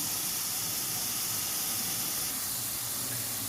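Potatoes simmering in a pot over medium-low heat while liver is prepared for dinner, giving a steady, moderately quiet bubbling hiss that runs unbroken throughout.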